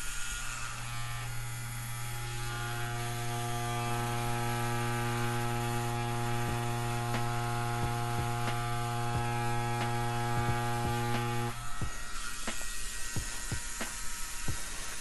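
A tattoo machine fitted with a 14 round liner runs steadily while lining skin, giving a constant close electric buzz with a strong hum, then cuts off near the end, leaving faint clicks and handling noise.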